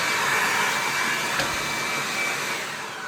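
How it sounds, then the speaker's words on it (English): A 20V cordless electric leaf blower runs in vacuum mode close by, giving a steady, loud whooshing whine that holds for several seconds and eases off near the end. "Switch it to vacuum mode for all intents and purposes."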